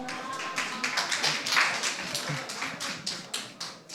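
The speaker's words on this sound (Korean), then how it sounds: "박수 소리가 다른데?" Audience of a church middle-school youth worship service clapping to welcome a teacher, a steady patter of claps at moderate distance lasting throughout.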